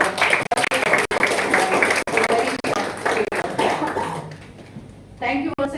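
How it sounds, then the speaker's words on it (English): An audience at a youth parliament event at Don Bosco College of Engineering claps in a round of applause, a busy patter with coughs and voices mixed in that fades out toward the end. "I think they deserve a big round of applause for"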